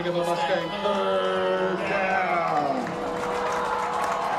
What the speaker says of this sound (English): Crowd making some noise here on 3rd down.